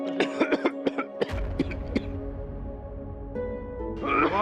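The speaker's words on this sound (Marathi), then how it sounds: "हा खोकला काही मला साधा वाटत नाही" A string of sharp, repeated coughs in quick bursts, followed by a lingering tonal background with music-like hum.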